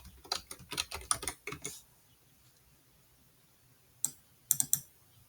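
Keyboard typing as data goes into spreadsheet columns: a quick burst of soft clicking keystrokes, then a pause and a few more isolated taps, close and fairly quiet.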